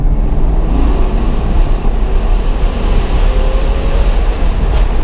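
Ferrari F12 with an Innotech IPE exhaust accelerating in third gear with the exhaust valve closed, a steady low droning rumble mixed with broad road and wind noise, continuous and fairly loud from inside the car.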